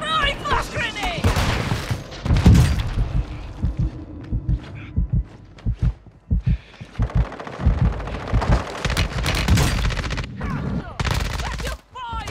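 Gunfire and flash grenade blasts in a military video game: rapid bursts of automatic fire and heavy thumping shots, loud and close, with game voices calling out over the action.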